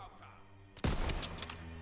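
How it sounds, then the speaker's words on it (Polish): Gunfire in the World War II shooter Call of Duty WWII, a sudden loud burst of shots after a quiet stretch with low background tones. "Dwa bez sensu strzały"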